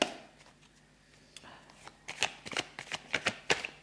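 A deck of tarot cards is shuffled by hand, soft riffling at first building into a quick run of sharp, crisp flicks and slaps toward the end, close and fairly quiet, with no one speaking.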